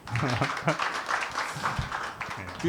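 An audience at a Sewol ferry memorial gathering breaks into applause, a dense patter of many hands clapping for a couple of seconds, mixed with a voice speaking over it.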